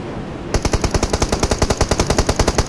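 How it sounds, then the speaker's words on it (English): Rapid automatic gunfire in the mobile battle royale game PUBG Mobile, a loud, steady string of shots starting after a brief quiet moment and hammering on in a fast regular rhythm, with no talk over it. "I'm getting shot."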